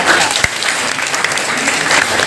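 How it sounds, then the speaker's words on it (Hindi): Brief burst of audience applause at a street magician's sleight-of-hand show, loud and continuous clapping with one sharp thump early on. "तालियां।"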